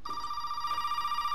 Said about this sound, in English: Then the phone's gonna go off.